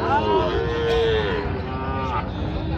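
Sahiwal cattle at a busy cattle market low repeatedly in long, drawn-out moos, loud and close, with one bellow following another and continuous crowd din behind them.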